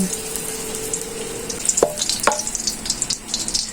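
Garlic sautés in heated oil for a shrimp and kangkong dish, a soft continuous sizzle broken by a couple of sharp utensil clicks and scraping, with no talk.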